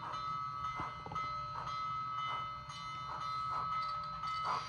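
Brass Union Pacific FEF-3 model steam locomotive with a DCC sound decoder, chuffing in an even four-beat rhythm over a steady hum, with a whistle-like tone running throughout.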